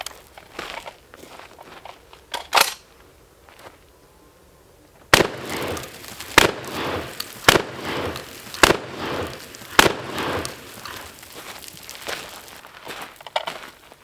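Shotgun rounds fired one after another with a Harbor Freight replica and a Streamlight TLR-1 HL weapon light mounted, sharp loud blasts spaced roughly a second or two apart after a quieter stretch of handling noise.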